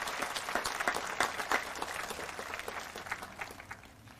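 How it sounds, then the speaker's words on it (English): A high school graduation audience applauds a student snowboarding state champion and fellow athletes, a fairly faint, distant round of scattered clapping that holds steady and then gradually thins out. "Let's give her a round of applause, and all of the athletes."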